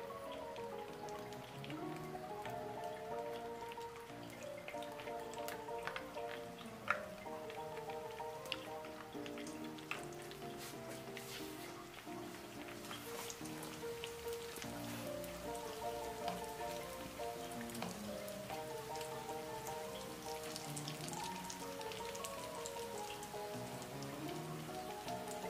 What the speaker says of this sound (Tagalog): ito na yung ating piprituhin. Gyan na natin ang oil